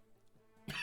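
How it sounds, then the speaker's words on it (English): A single short, loud cough bursts out at the very end, following a stretch of quiet room tone. "Sorry for my coughing."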